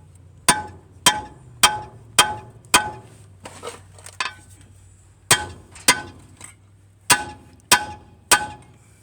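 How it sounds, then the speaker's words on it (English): Hammer blows ring out against the front hub of a 1947 Dodge Power Wagon, a dozen sharp metallic strikes in uneven bursts of three to five, close and loud, with a low steady hum underneath. "I'm gonna have to get a bigger hammer."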